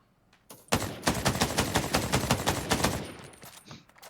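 An AK rifle fires a long, rapid automatic burst in the shooter game Ring of Elysium, loud and close, with evenly spaced shots running for about two and a half seconds before cutting off.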